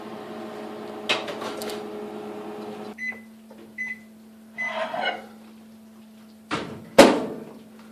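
A microwave oven heating peanut brittle mixture opens and shuts with clunks, gives two short beeps, then hums steadily as it runs, with a few bumps and a loud door clatter near the end.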